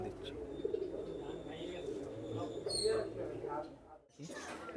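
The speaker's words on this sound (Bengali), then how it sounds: "একটা রামপুরি কবুতর" A male Rampuri pigeon at a pigeon farm coos softly in low murmurs, with people talking close by throughout.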